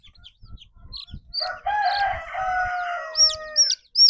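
Young chicks of a roundhead and golden boy cross peep in high, rapid bursts near the microphone, with a longer rooster-like crow in the middle and scattered soft thumps underneath.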